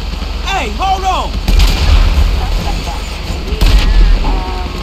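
Tank cannon fire in Grand Theft Auto V during the Paleto Bay bank robbery: two heavy booming blasts land a couple of seconds apart over a steady rumble, with whistling tones and background noise between them.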